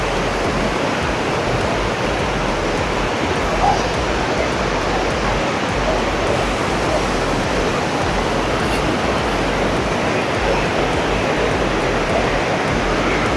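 Tarabu waterfalls pour down in a loud, close, unbroken rush of water that holds steady throughout, with no voices heard over the roar.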